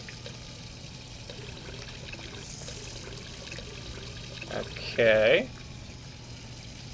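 Water gun being filled at a small sink in the game Hello Neighbor: a short burst of pouring, trickling water around five seconds in, after a quiet stretch with a brief spoken word.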